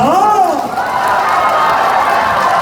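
Outdoor festival crowd at the Mungyeong tea bowl festival claps and cheers during a singer's concert; a voice carries over the start, then dense, steady applause fills the rest.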